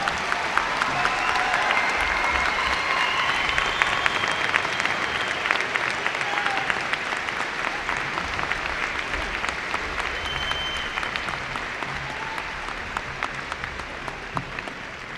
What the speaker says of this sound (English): Let's give all of the graduates a large round of applause.